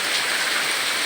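Steady, dense rain falling on surfaces, a loud continuous hiss with no talk or other sounds.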